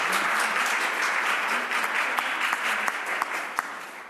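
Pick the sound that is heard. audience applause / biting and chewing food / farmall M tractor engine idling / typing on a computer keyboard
audience applause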